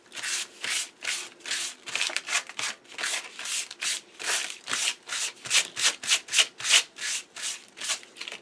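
Sandpaper roughing up a glossy clipboard surface in crisscross strokes, a close, rhythmic series of dry scratchy rubs that grow quicker and louder toward the end, with no talking.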